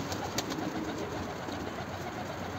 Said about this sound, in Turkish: Hepsi uçuşuyorlar, çatıdalar arkadaşlar. Cıvıl cıvıllar maşallah.